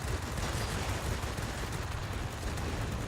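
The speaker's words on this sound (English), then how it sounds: "Get in nice and close and watch these cannons go." Aircraft cannons on a Japanese A6M1 fighter fire in World of Warplanes, a dense, continuous rattle of rapid shots, loud and unbroken throughout.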